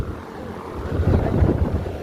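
Steady rush of air from an air cooler blowing close by at a religious discourse gathering's dining area, a low rumbling wind noise that swells slightly partway through.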